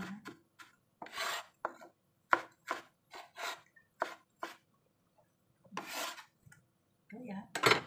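Kitchen knife slicing a carrot on a cutting board for pickled radish, a series of crisp chopping strokes in an uneven rhythm, close and clear, with a few quiet spoken words.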